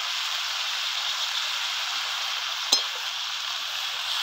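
Turul vine shoots sauté with salt and turmeric in a pan, a steady soft sizzle running throughout with one brief clink near the end.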